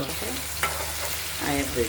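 Ash gourd slices fry in oil with a close, steady sizzle and a few soft stirring scrapes, a brief spatula clink partway through.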